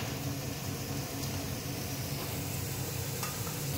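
Spice paste frying in oil in a pan for aar fish curry, a soft, even sizzle humming steadily and quietly with only a faint tap or two.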